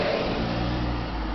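A passing tour bus or car engine rumbles steadily nearby outdoors, a low continuous drone holding the same level throughout with no talk.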